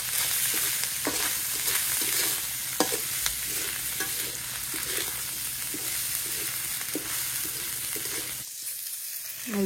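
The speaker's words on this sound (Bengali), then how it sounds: "এই যে এই মাছ এখন ভাজি হয়ে গেছে, একটু হালকা ভাজি হয়েছে।" Fish fries with turmeric and garlic in a pan in a Bangladeshi village kitchen. Steady sizzling runs under repeated scraping stirs, then drops away near the end.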